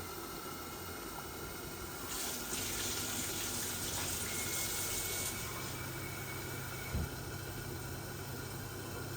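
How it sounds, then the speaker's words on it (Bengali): Water poured steadily from a small glass into a cooking pot of chicken curry, a soft continuous trickling splash that swells briefly in the middle, fairly faint. "এখন আমি পানি আনিলাই।"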